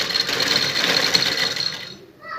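Sewing machine stitching a V-shaped lace neck design on a garment, a fast continuous whirring hum close by that cuts off abruptly near the end, followed by a brief quiet sound.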